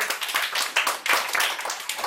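Audience members at a herbal products boot camp in Manali clap together in a lively, rippling burst of many hands, fairly close and steady for the whole stretch, with no speech.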